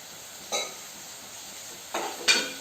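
Vadas frying in oil in a pan, a steady soft sizzle punctuated by a few brief metallic clinks and scrapes of a utensil against the pan, close and fairly quiet.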